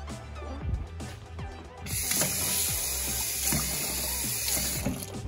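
Water pouring into a gooey cement slime mixture, a continuous close splashing stream with rattling and scraping of mixing underneath.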